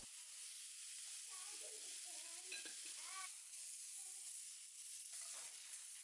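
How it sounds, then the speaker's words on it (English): A lamb chop sears in hot oil in a skillet, giving a continuous, even hiss-like sizzle throughout, with faint scattered tonal sounds in the background. "Heat up a skillet with oil to sear the lamb chop"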